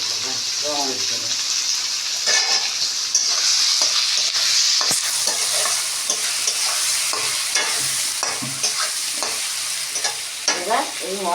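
Salt, turmeric and a little Kashmiri chilli sizzle in hot oil for a Bengali tangra fish curry, with a steady frying hiss and repeated stirring scrapes close by; a voice speaks briefly now and then.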